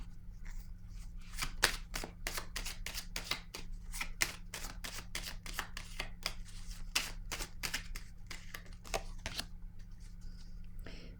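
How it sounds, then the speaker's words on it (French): Tarot cards are handled and laid down on a table, a quick run of crisp, close papery snaps and slaps in an uneven rhythm, steady over a low background hum, with no voices. "Je vais déposer une carte sur la sagesse à l'envers."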